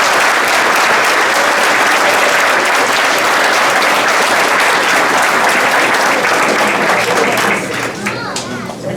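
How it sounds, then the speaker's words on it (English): Loud, dense audience applause at a high school football awards banquet, a sustained crowd ovation that carries on steadily and tapers slightly near the end. "So please give my wife Jen a round of applause."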